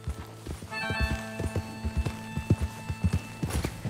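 Mustang horses gallop in Red Dead Redemption 2, with a loud, steady run of hoof clip-clops and a high whinny rising over them, all close and without talk.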